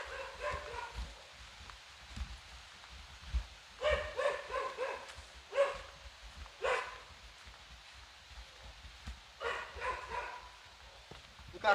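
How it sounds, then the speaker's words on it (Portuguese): A dog barks in short bursts of several yaps at a rural village house, at a moderate distance, with quiet gaps between the bursts. "O cachorro latindo aí pra nós."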